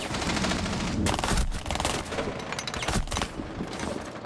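Rapid gunfire in a video game, a dense burst of sharp repeated shots with several louder blasts standing out, close and loud with no talking.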